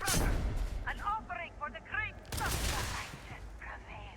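A grenade explodes in the video game Starfield: a sharp, loud broadband blast about midway, with gunfire-like bursts around it and someone talking over the action.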